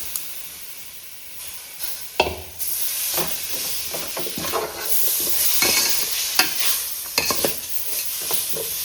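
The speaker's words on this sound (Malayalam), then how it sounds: "പൊടികളൊക്കെ ഒന്ന് മൂപ്പിച്ചെടുക്കുക." Spice powders roast in a hot pan with chicken masala, a close, steady sizzle broken by repeated scraping strokes of a spoon stirring against the pan's base.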